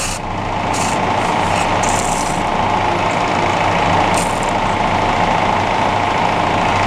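A lathe runs at 250 rpm while a 15 mm drill bores in with emulsion coolant, a loud, steady mechanical drone with a constant low hum and faint intermittent high whine.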